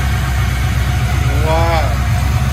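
A 1995 Nissan 240sx with a cammed LS3 V8 swap, long tube headers and a Borla Pro XS exhaust idles with a loud, steady, deep rumble close by, and a brief voice rises over it partway through.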